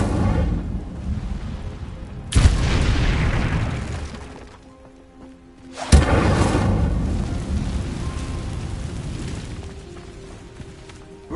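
In Hogwarts Legacy, the Incendio fire spell is cast twice, each time as a sudden loud boom that trails off into a long crackling, rumbling roar.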